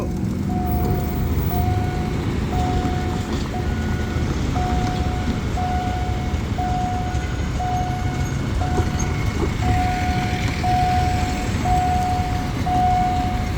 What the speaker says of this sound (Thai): เสียงสัญญาณดังขึ้นแล้ว